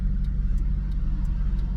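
A Maserati GranTurismo S fitted with sport catalytic converters and silencers rumbles steadily at close range, a deep, continuous exhaust drone with a slightly raspy edge and faint regular ticks above it, no voices.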